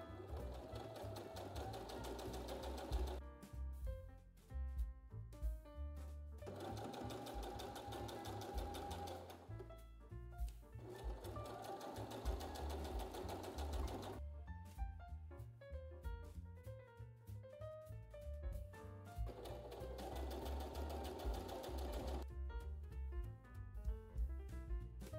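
Sewing machine stitching fabric bands together for a heart-shaped bag, running in steady bursts of rapid needle chatter split by short pauses, close and fairly quiet.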